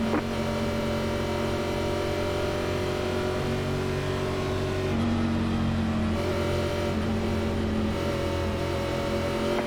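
NASCAR Xfinity Series race cars accelerating at the green flag at Chicagoland Speedway in the iRacing video game, a loud, steady engine drone that fills the whole stretch with no talking.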